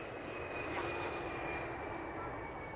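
Airplane at the runway edge of Hamburg airport, heard as a steady, broad engine roar with a faint high whine, continuous and moderately distant throughout.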